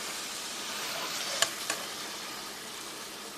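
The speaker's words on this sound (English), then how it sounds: "I just brown the ground beef like so" Ground beef browning in a pan gives a steady, close hiss of sizzling fat, with two brief scrapes or clicks from stirring partway through and no talking.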